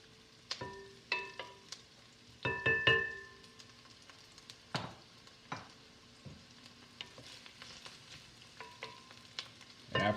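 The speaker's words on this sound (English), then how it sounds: "So we're going to start with sauteing our onions." Onions sauteing in a pan for a lemon tarragon chicken soup, with a soft steady sizzle broken by repeated clattering stirs and scrapes of a utensil against the pan, close and fairly quiet, no talking.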